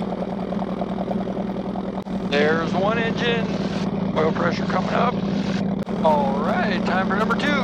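Aircraft piston engine on the Silver Bullet firing up and settling into a steady run with the propeller turning, loud and close, dense harmonic drone throughout with a brief dip near the start and another later; a voice speaks over it.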